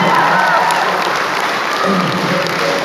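A concert audience at a show for the Kyrgyz diaspora in Almaty breaks into dense, sustained clapping that fills the hall loudly and evenly throughout.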